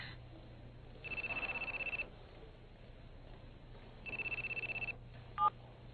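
A cellphone rings in an animated scene, two bursts of rapid trilling electronic ringing separated by a pause, followed by a short beep, fairly faint over a low hum.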